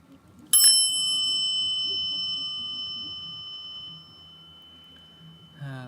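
A single sharp strike on a bell rings out clearly, its bright tone decaying slowly over several seconds, followed by a brief clatter at the end.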